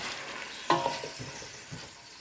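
Onions fry in butter in a pan. A sharp clink as they go in is followed by a few soft stirring scrapes over a gentle, continuous sizzle.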